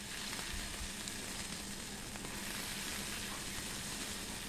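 Mushrooms drop into spiced masala frying in oil, producing a faint, even sizzle and hiss that runs unbroken, with no voices.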